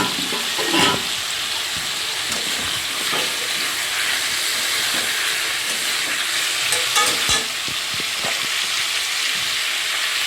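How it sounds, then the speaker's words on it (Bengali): Meat with leg pieces and bones fries in a pan, a steady loud sizzle with frequent scraping stir clicks and knocks throughout, no voices. "তো চলো হয়ে গেলো মাংসটা ভাজা ভাজা"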